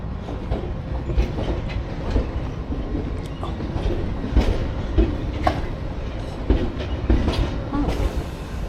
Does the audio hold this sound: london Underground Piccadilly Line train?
yes